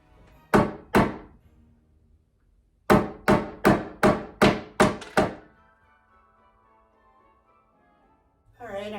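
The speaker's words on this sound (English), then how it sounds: "Getting a hammer." Sharp hammer blows: two quick strikes, a pause, then a rapid run of six more evenly spaced whacks, loud and close, with a voice starting at the end.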